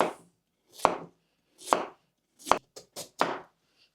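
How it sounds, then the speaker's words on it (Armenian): A knife chops a peeled carrot on a cutting board: about six crisp, close strikes in an uneven rhythm, the last few coming quicker, with quiet pauses between and no voices. "Մաքրելուց հետո անհրաժեշտ է կտրատել"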